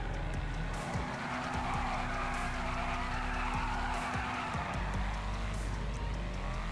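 An Obey 8F sports car in GTA 5 Online revs and shifts through gears at speed, tires hissing and skidding, with a steady roar throughout.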